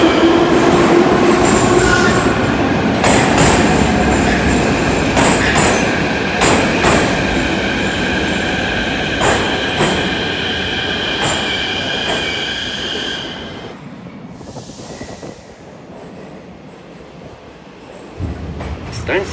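Kyiv metro train on the Sviatoshynsko-Brovarska line running between stations, a loud steady rumble with wheel squeal and rail clatter that fades as it slows, with a brief tonal chime near the end.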